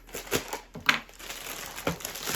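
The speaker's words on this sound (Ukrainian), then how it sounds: "бачу скотч, відкриваю скотч" Packing tape crackles and rips in short bursts as it is peeled off a parcel, close by, between quieter moments of handling.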